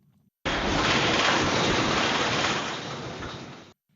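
A deep, continuous roar like thunder from an earthquake on Marado, Jeju, caught on a restaurant CCTV, rises suddenly, holds loud for about three seconds, then fades and cuts off, with no speech.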